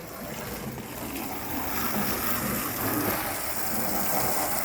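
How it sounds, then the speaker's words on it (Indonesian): A high-pressure water jet sprays steadily over a car during a wash, blasting dirt off the body with a continuous, broadband hiss that holds at an even, fairly loud level throughout. "kita semprotkan air yang agak kencang tekanannya itu"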